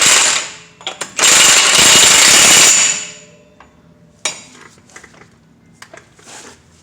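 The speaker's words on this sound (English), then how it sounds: "I'm going to hit it with an impact gun a little bit" An impact gun hammers the front axle nut of a Chevy Silverado during a wheel bearing replacement: a short rattling burst, then a louder sustained burst of rapid impacts, followed by scattered tool clinks.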